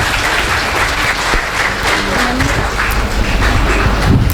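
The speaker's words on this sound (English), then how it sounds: "Please give a round of applause" A hall audience at a Teachers' Day celebration and oration applauds as a guest is called to the dais, steady dense clapping throughout with faint background murmur.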